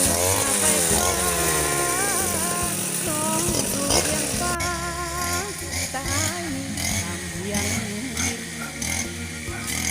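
A motorized grass cutter buzzes steadily while cutting grass outdoors in a rice field area, its engine whine loud and continuous, wavering in pitch as the load changes.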